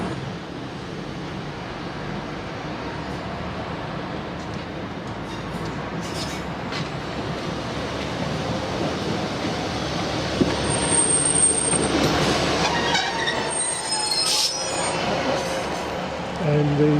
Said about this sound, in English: And the train arrived at 25 past 12 and it's due to leave at 12:37.